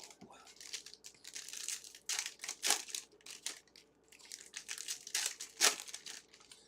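A pack of 2024 Topps Signature Class football trading cards is torn open, with repeated bursts of crinkling foil wrapper and ripping, close and fairly loud, coming in irregular clusters over several seconds.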